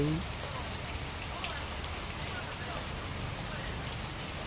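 Steady rain pattering on a surface, a dense, even hiss with faint drips, continuous and moderately close with no talking.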